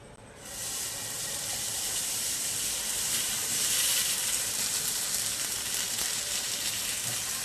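Dosa batter sizzles steadily on a hot pan, a loud, broad, continuous hiss that swells in after the first half second and holds evenly to the end, with no talking.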